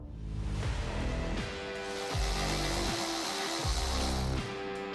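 A 10mm socket ratchet loosens nuts on the plastic lower valance of a 5th-gen Ram 3500 Cummins truck, giving steady close-up clicking and rasping in repeated strokes, with no talking.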